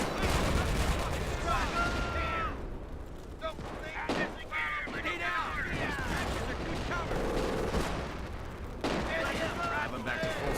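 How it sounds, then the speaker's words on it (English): Rapid MG42 machine gun fire in the WWII strategy game Company of Heroes, bursts of gunfire and distant explosions in a busy battle mix with game music underneath. "Oh god, point blank with an MG42."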